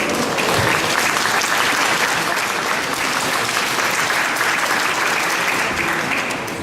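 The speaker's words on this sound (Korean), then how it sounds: "박수로 맞아주시기 바랍니다" Sustained audience applause fills the room at an Intel Ultrabook third-generation launch keynote in Korea, steady and fairly loud throughout with no voices over it.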